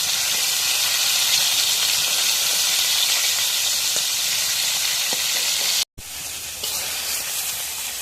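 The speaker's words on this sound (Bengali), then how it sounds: "এখন মাছগুলো ভাজি" Fish sizzle and hiss loudly in hot oil in a pan, a steady dense frying crackle that cuts out briefly near the end and then resumes.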